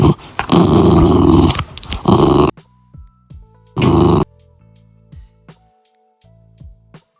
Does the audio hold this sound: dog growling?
yes